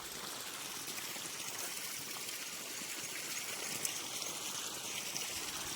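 Steady water flow from an electric pump motor in a farm setting, a continuous soft rushing and trickling hiss that holds even and fairly faint throughout, with no voices.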